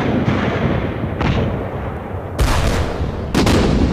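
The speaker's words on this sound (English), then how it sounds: "340 guns began the heaviest bombardment the British Army had ever seen." Heavy British artillery fires in a World War I bombardment near Neuve-Chapelle, a dense rumble with sharp booming blasts hitting at irregular intervals, loud and without voices.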